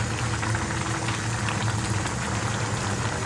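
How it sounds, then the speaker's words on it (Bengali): Khichuri with vegetables boils in a pot, a dense, steady bubbling and simmering at close range, with no talk. "খিচুড়ি মোটামুটি বয়েল হয়ে গেছে"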